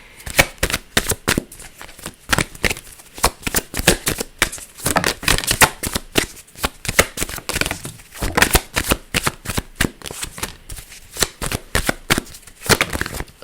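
A deck of cards is shuffled over and over in rapid rhythmic bursts, crisp riffling snaps repeating close to the mic with brief pauses between them and no talking.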